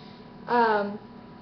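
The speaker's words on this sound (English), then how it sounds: "Sorry, it's like a habit for me yawning in videos." A person lets out a single voiced yawn, close and fairly loud, rising then sliding downward for about half a second before trailing off into quiet.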